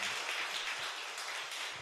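A church congregation at a worship service claps together, a dense, continuous wash of applause that holds steady and fairly loud throughout, with no speech over it.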